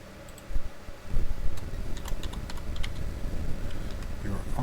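Steady computer keyboard typing with quick, uneven keystroke clicks running through the clip, close and fairly loud, with a short burst of louder taps near the start.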